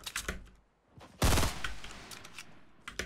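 Gunfire in Fortnite Battle Royale crackles as scattered sharp shots, with a loud close blast near the middle followed by a rumbling tail and more quick pops toward the end, partly far off.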